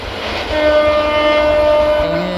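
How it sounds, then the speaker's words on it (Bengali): A train pulling into Methikanda railway station, its loud sustained horn blaring over the low rumble of the moving carriages, close by and without speech. "এই যে এটা মেথিকান্দা রেল স্টেশন, এখন যে থামবে"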